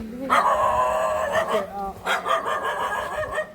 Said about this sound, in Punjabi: ਤੇ ਕੁੱਤਾ ਭੌਂਕੀ ਜਾ ਰਿਹਾ ਹੈ